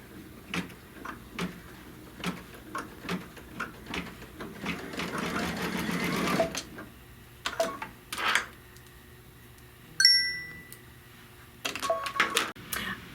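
An embroidery sewing machine stitches the yellow center of a flower on a quilt block, with bursts of rapid mechanical whirring and clatter broken by short pauses and a few clicks and beeps.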